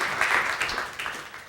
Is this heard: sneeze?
no